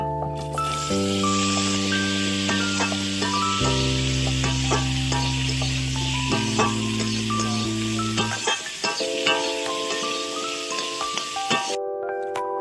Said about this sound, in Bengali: এবার আমি আলুগুলো ভেজে নেব।